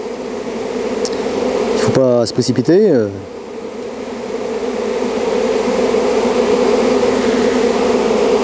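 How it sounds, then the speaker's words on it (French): A swarm of honey bees hums in a steady, dense drone, briefly interrupted by close handling noises and a short spoken remark before the buzzing builds again. "Un nuage d'abeilles, on peut voir un nuage d'abeilles là."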